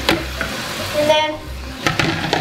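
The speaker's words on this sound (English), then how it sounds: "mix it again" A frying pan of Japanese curry ingredients with onions being stirred, several scraping strokes of the spoon over a continuous sizzle, with a brief pause in the middle.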